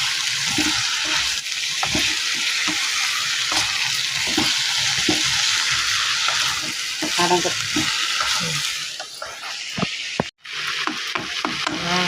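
Tomatoes sautéing for a kootu chutney sizzle steadily in a hot pan, with intermittent stirring scrapes and clinks throughout and a short break near the end.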